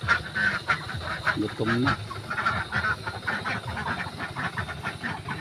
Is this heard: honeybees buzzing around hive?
no